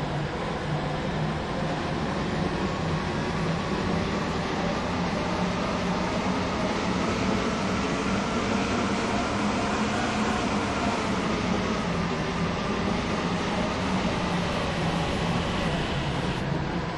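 Interior of a Class 377 passenger train running at speed, a loud steady rumble and rush of wheels on rails and air that goes on unbroken throughout.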